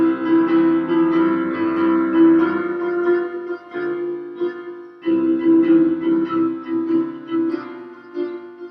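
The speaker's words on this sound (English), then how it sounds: "You could play the bass note as a single note an octave down." Keyboard plays a hymn chorus with the bass note doubled an octave down, sustained full chords in two phrases separated by a brief gap, clear and close with no talking.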